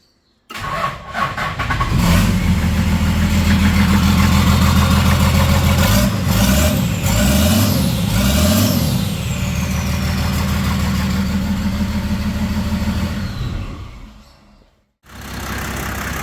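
Toyota 2H diesel engine with a newly installed turbo cranks, starts and runs with a steady clattering idle and brief revs, loud and close, then shuts off near the end with no talking.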